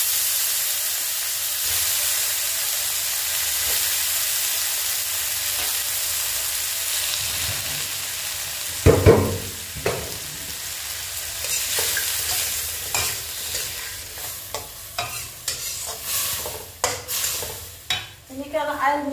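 Vegetables stir-fried in a hot pan, a steady sizzle and hiss that breaks into clattering stirring and scraping toward the end, close and loud, with no talk.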